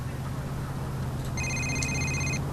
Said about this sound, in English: let me just turn that stupid phone off